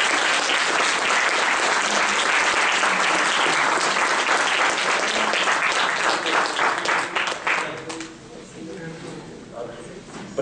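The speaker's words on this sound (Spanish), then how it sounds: "Quiero darle un gran aplauso a un amigo entrañable" An audience at a lecture event gives dense, loud applause that holds steady for several seconds and then fades out, with a voice speaking over the end.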